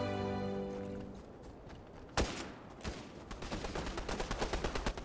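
Video game gunfire: a sharp shot, then another, then a rapid rattling burst of repeated shots building toward the end, fairly close and without talk.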